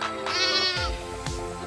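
Sheep kept for herding and grazing bleat in two close, loud, drawn-out wavering calls, with no talk over them.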